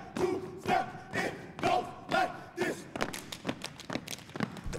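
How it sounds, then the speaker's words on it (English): Crowd yelling and girls screaming at a college step show, loud shouted bursts in a steady rhythm that give way to denser cheering and thumping, close and energetic. "The crowd is yelling, the girls are all screaming."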